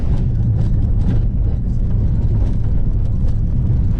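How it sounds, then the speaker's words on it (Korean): A steady, low engine rumble and road noise fill the cabin of a moving bus in Georgia, continuous and fairly loud throughout. "저 뒤에 보이는 버스를 타고 지금 계속 이동하고 있습니다"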